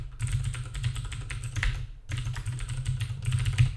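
Rapid computer keyboard typing while program code is written: a dense run of close keystroke clicks, a brief pause, then more steady clattering, with no talk.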